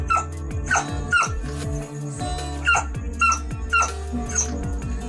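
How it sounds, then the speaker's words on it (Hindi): A dog howls and whimpers along to guitar music, its rising, wavering cries repeating every second or so over the steady strummed chords, close and clear. "इस डॉग को ही देख लीजिए, जो कि गिटार के साथ उसकी धुन में गाने की कोशिश भी कर रहा है।"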